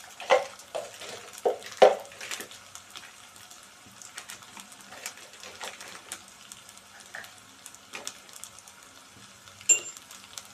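Mutton curry being stirred and sautéed in a pan, with soft scraping and light sizzling, a few sharper spoon clinks near the start and then quieter, steady stirring sounds.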